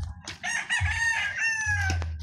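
A rooster crows once in a backyard, loud and close, a drawn-out cock-a-doodle-doo lasting about two seconds.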